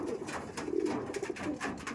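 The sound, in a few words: Madrasi pigeon cooing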